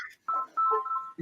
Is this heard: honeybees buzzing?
no